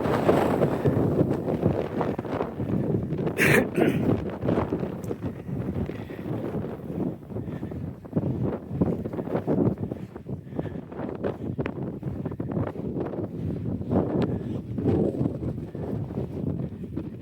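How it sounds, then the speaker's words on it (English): Stiff wind blowing across open sand in a Colorado national park, a continuous rough buffeting roar on the microphone lasting the whole stretch, with gusty surges and faint footsteps but no talking. "Walking across this, I'm getting stiff wind in my back."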